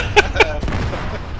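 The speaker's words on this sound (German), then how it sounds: "Oh Gott, er explodiert!" A blast goes off in Arma 3, preceded by two sharp, loud cracks and then a broad booming burst that rolls out and fades over about a second.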